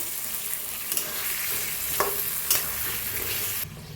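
A brinjal curry with masala is stirred in a sizzling pan, a steady close frying hiss broken by a few soft scraping strokes of the spoon, with no voices.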